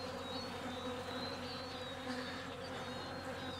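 Honey bees robbing an opened hive make a dense, continuous buzz, many insects whining at close range with individual bees zipping past, steady throughout with no voices.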